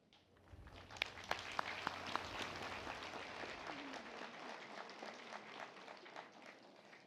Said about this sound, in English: it is now my order for you to render the loudest round of applause to your families, especially to your parents and guardians.